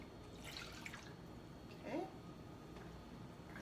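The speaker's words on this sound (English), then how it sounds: "I'm going to pour in approximately a cup of balsamic vinegar." About a cup of balsamic vinegar poured into a cooking pot in a home kitchen, giving soft, faint liquid splashing and dripping early on, with a brief spoken word midway over low background hiss.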